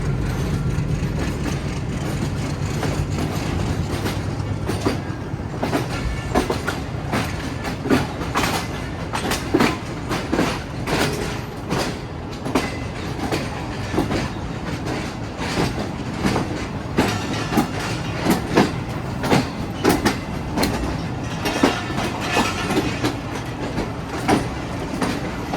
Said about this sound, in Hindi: डिपार्चर हो गया बल्कि ट्रेन का।